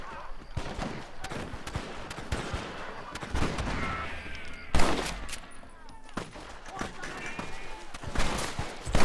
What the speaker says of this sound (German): Einfach mal auf die Frau schießen, genau.